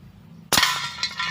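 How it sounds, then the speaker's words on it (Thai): A single sharp crack as a PM4 air gun fires and the pellet strikes a can, the loud snap ringing briefly with a faint metallic decay. "นี่จะยิงกระป๋องที่สาม"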